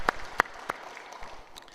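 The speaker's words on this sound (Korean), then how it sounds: "감사와 영광의 박수 드립니다." A church congregation clapping during a Sunday family worship service, a few sharp separate claps followed by a faint scattered patter that fades out.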